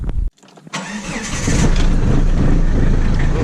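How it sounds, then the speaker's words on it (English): A car engine cranks briefly, cuts out for a moment, then catches and settles into a loud, steady running rumble close by, with no talking. "I'm going to start the engine"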